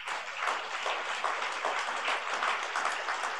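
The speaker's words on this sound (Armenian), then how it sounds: "Փառք Տիրոջը, ավելի բարձր ծափարենք։" A church congregation at an Easter service applauds together, a dense, steady clapping that fills the hall at moderate loudness for several seconds.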